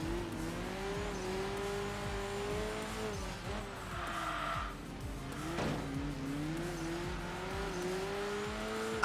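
A Shelby Cobra racing in the game Enthusia Professional Racing, its engine note droning steadily with pitch rising and dipping through gear changes, plus a brief tire squeal partway through; no voices.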